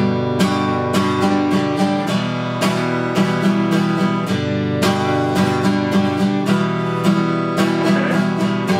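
Acoustic guitar strummed in a repeating pattern of two quarter-note downstrokes followed by four quicker eighth-note strums, chords ringing full and close with no talking.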